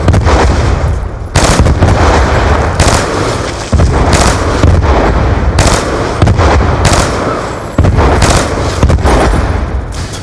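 Missile-firing weapon in a video game. Loud, booming blasts repeat roughly every second and a half, each sharp burst followed by a rumbling tail that keeps the background dense between shots.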